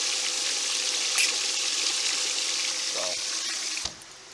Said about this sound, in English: See, it just pumps that water around